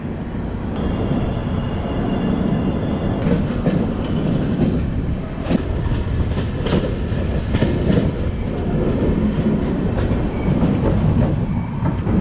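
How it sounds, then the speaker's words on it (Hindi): The Avadh Assam Express rumbles into New Alipurduar station with a steady, loud rolling roar, scattered wheel clicks and occasional sharp metallic squeaks, and no one speaking. "ट्रेन हमारी पहुंच चुकी है न्यू अलीपुर द्वार"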